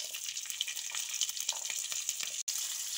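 Spices and onions frying in sesame oil in a pan for goat gravy, a close, continuous crackling sizzle with small pops and one brief dropout near the end.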